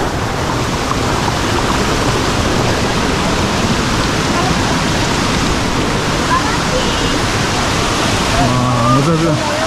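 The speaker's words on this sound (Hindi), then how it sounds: "ओहो पानी का आवाज" Steady broadband rush of Langvoku Waterfall in Karbi Anglong, Assam, fills the whole clip, loud and close, with a faint voice or bird-like chirps near the end.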